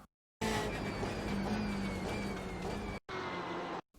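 BMW M8 GTE race car at Road Atlanta in iRacing braking hard and downshifting: a loud, close, continuous engine roar with shifting pitch, broken by two short abrupt cuts in the sound.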